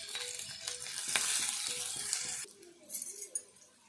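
Onions frying in oil for a tomato eggplant curry, a bright sizzle with a few light stirring knocks that drops to quieter hissing and scattered clinks toward the end.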